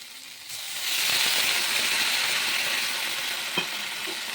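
Vegetables for shukto fry in a pan as the lid comes off, a steady hissing sizzle that swells after a moment and holds, close and moderately loud.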